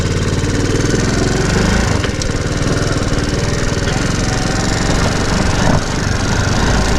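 A Honda Cub motorcycle engine runs close and loud, a dense steady chug and rattle that holds throughout with no pause.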